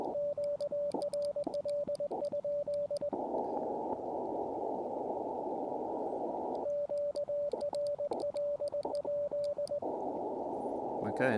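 Steady Morse code sidetone from an Elecraft KX2 transceiver beeping in short and long tones, alternating with bursts of hissing radio static.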